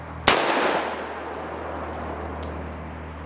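A single sharp gunshot from a .357 revolver, fired beside the barrel, cracks loudly and close, followed by a fading echo and a low outdoor hum.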